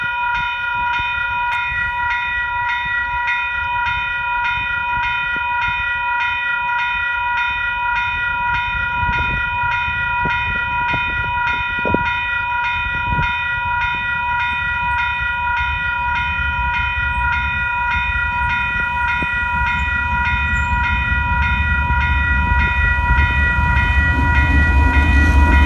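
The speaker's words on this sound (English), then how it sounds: "DL9210 arrives in to collect the broken down train." KiwiRail DL9210 diesel locomotive pulling in to collect a broken-down freight train, with a steady sustained tonal whine or horn over a rumbling engine and wheels that grows slightly louder as it draws near.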